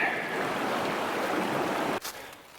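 Water in Harper Creek in Pisgah National Forest, North Carolina, rushes steadily and close, a continuous broadband flow that cuts off abruptly near the end, leaving fainter ambient sound.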